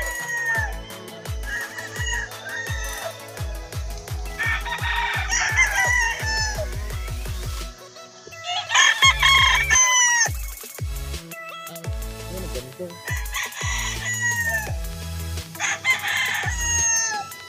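A banded White Kelly stag gamefowl crows loudly several times, close by. Between the crows come clucks and quick, rhythmic knocking.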